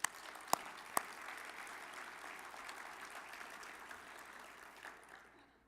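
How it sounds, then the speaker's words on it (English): Audience applause at a general session of a national tornado summit, a steady round of clapping that begins after a couple of sharp claps and then fades out at the end. "And so, round of applause for Adrian and her group."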